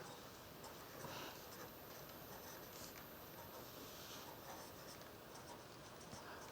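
A pen scratches steadily across paper as an email address is written out by hand, a close, continuous dry scraping with small strokes and pauses, quiet and with nobody speaking.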